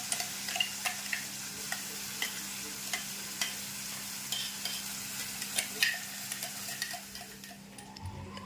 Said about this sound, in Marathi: ग्रीन ग्रेवी आता तेलात टाकून द्यायची